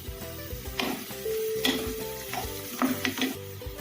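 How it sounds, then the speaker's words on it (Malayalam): Vegetables for veg cutlets are sautéed in a pan, with steady stirring scrapes and soft frying, plus a few light clinks of a utensil against the pan, close and alone. "നന്നായിട്ടൊന്ന് വഴറ്റി കൊടുക്കാം."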